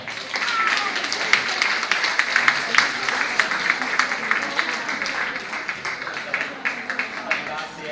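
An audience applauds the evening's hosts at a stage show, a dense, steady clapping close by that carries on for the full stretch without pause.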